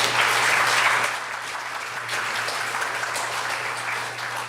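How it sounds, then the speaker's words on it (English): An audience at a gathering applauds in a sustained wash of clapping. It is loudest at the start and then settles into a steady, slightly softer roar over a low constant hum. "So give yourselves a round of applause."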